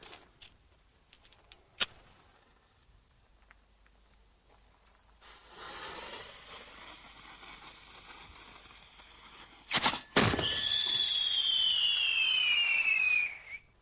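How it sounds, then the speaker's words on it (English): A firework mortar fires a cylindrical shell: a sharp pop, then a loud whooshing burst with a sizzling, whistling tail that fades slowly, heard up close with no talking. "This is actually a firework mortar, and it forces out this cylindrical shell"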